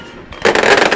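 Firecrackers burst at an outdoor football match in the Liga Limpeña, with coloured smoke filling the stands; after a quiet start, a loud dense run of crackling pops erupts and carries on to the end.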